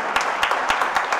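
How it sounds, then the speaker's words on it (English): Congregation at a church service, a celebration of life, claps hands in a short burst of rhythmic, evenly spaced claps, close and fairly loud over a faint background murmur. "You can clap your hands right now, somebody."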